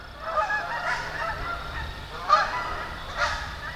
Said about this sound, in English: I got some geese flying by.